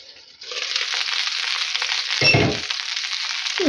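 Battered cutlets sizzle steadily in a hot pan, a bright continuous hiss, with a short clatter of a lid or utensil partway through.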